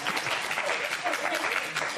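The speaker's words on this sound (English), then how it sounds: "Am I the only one clapping?" Brief hand clapping in a sports TV studio after a football win, a couple of seconds of steady rapid claps at moderate loudness.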